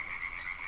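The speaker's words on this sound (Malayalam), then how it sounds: "മഴക്കാലം ആയതുകൊണ്ട് തവളകൾ പുറത്ത് നിന്ന് നല്ല ശബ്ദമാണ്" Frogs croak outdoors in the rainy season in a steady, buzzing chorus, continuous and moderately loud with no voices.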